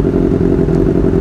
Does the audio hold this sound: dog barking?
no